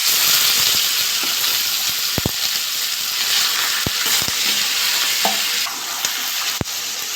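Chicken pieces frying in a pan with dried red chillies, whole cumin and spices, stirred steadily: a continuous close sizzle with sharp spoon scrapes and clacks against the pan, no talking.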